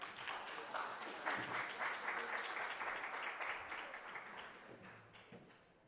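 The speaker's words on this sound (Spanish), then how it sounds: "lo recibimos con un cálido aplauso" A lecture audience gives a warm round of applause to welcome Dr. Geiser; the dense clapping swells, holds steady, then thins out toward the end.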